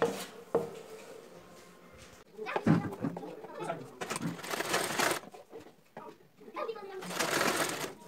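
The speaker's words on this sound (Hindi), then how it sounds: "इसको सिलाई करने के बाद इसको ऐसे पलट देना है और इसमें एक सीधी सिलाई लगानी है" A sewing machine stitches the back neck of a blouse in short whirring bursts, heard between and beneath a woman's speech.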